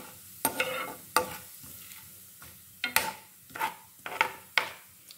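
Chana dal and cumin seeds frying in a pan, stirred with a spatula: irregular scraping strokes and soft sizzle, close and moderately loud, with no talking.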